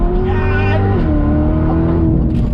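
A 2019 Chevrolet Corvette C7 ZR1 accelerates hard in second gear on a racetrack, its loud supercharged engine roaring and rising steadily in pitch throughout, heard close up and continuously.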